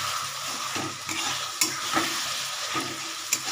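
Tomatoes fry in a pan for a tangy, spicy pabda fish curry, with a steady sizzle broken by the scrape and clack of a spoon stirring, plus a few sharper taps against the pan.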